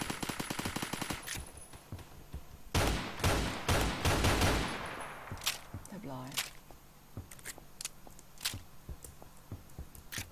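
Machine gun fire in the Roblox shooter Phantom Forces, with several loud rapid bursts in the first half and scattered single shots and footsteps afterward, while someone talks throughout.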